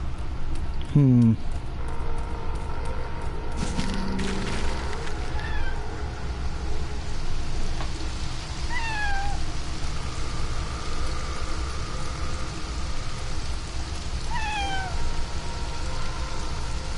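A pet cat meows repeatedly indoors, several short descending cries spaced apart over a steady background hiss, with a louder, drawn-out call near the start and fainter ones later.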